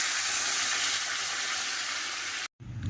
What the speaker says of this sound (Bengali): এবারে ওপর থেকে যে গরম জল করে রেখেছিলাম, গরম জলটা দিয়ে দেবো।